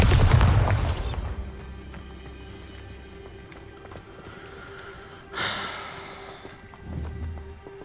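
Bombarda spell explosion in the video game Hogwarts Legacy: a single loud, booming blast at the very start that quickly decays, followed by quieter rumbles and thuds.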